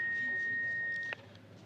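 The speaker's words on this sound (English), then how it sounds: "Wait for the beep." An answering machine gives a single steady electronic beep that holds for about a second and cuts off with a click, leaving faint line hiss. No one speaks.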